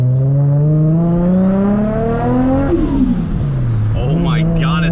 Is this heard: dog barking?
no